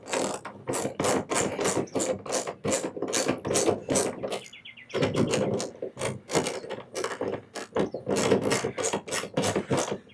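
A hand ratchet clicks rapidly in close, loud runs while it tightens the mounting bolts of car hood dampers. A brief pause in the middle separates two bouts of cranking, and no voices are heard.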